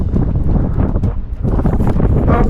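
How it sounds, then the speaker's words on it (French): Wind buffeting the microphone during a paragliding launch, loud low gusty rumble that surges and dips briefly before building again. "comme il y a un peu de vent"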